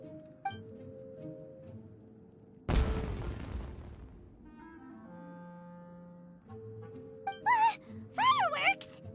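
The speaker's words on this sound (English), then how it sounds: "Was that an explosion? It sounded like fireworks." A single loud firework blast bursts in Genshin Impact, a sudden boom with a long crackling, fading tail. Steady game music plays around it, and brief voice-like sounds come in near the end.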